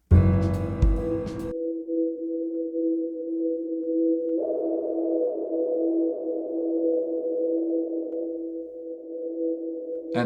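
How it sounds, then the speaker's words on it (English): A sustained synth chord swells through a huge, washy reverb, with a brief burst of bright harmonic notes at the start and a fuller layer entering midway. "we're just going to throw that through a really big reverb"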